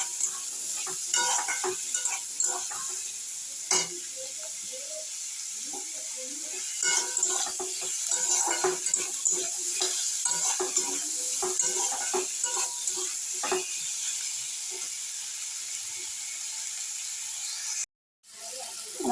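Onion, tomato and green chilli fry in hot oil in a pan, a steady sizzle broken by repeated scraping stirs of a spatula, close and fairly loud, with a brief silent dropout near the end.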